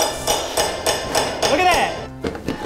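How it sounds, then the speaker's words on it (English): Hammer striking a LEGO wall, several sharp repeated knocks in an uneven rhythm, close and loud, mixed with excited talking. "I'm going back with the hammer."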